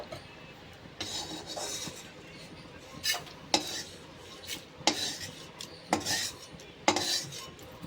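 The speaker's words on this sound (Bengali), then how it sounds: "এবার একটা বাটির মধ্যে আমি তুলে নেব।" Fried spices being scraped from a pan into a bowl for a lau chingri dish: repeated metallic spoon scrapes and clinks against the pan in irregular bursts, close and fairly loud, with a faint sizzle between them and no talking.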